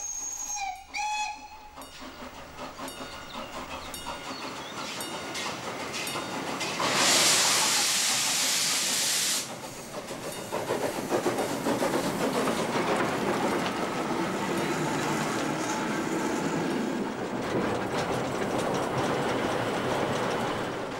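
A Prussian T3 steam tank locomotive sounds short whistle blasts, then a loud sustained burst of steam hiss, followed by steady running and rolling noise on the rails.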